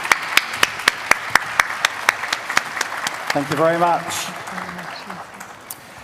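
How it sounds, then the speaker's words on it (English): A conference audience gives scattered, evenly spaced claps for Brazil's Minister of Health; the clapping is sparse and fairly close, then a voice speaks briefly over it as it fades. "A warm round of applause, please."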